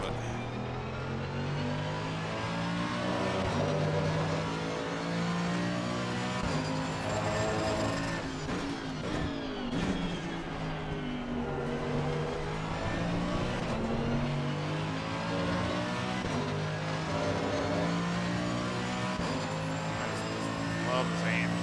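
Mercedes-AMG race car engine in the Assetto Corsa Competizione racing game, droning continuously with rising and falling revs and gear changes throughout, loud and steady with no gaps.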